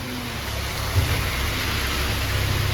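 Heavy rain pours steadily through a storm near Marchula by Jim Corbett at night, a dense, even roar with a brief low rumble that could be thunder, and no talking.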